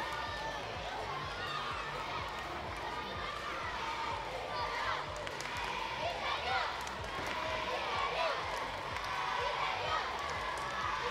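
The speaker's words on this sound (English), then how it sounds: "You can hear these French fans." French fans cheering at the 2022 ITSF World Cup women's classic foosball final, a steady, dense roar of crowd noise from a hall with a commentator talking over it.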